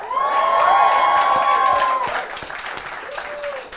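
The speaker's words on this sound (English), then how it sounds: "Another round of applause to Cash." A live show audience claps and cheers, with a tonal whoop or shout riding over the crowd early on, then the applause thins and fades while a voice rises again near the end.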